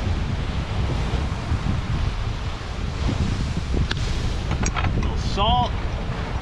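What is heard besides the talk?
wind blowing at a beach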